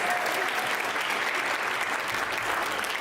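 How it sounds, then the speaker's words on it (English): Applause fills the hall at a high school's inaugural graduation ceremony, a dense, even clatter of many hands clapping at once, loud and sustained with no break. "Can we get another round of applause?"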